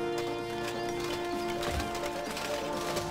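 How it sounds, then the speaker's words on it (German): Rapid hoofbeats of several horses galloping, with a neigh, over a steady synthetic soundtrack in the video game Stronghold 2. "So, die Pferde hauen jetzt wieder ab."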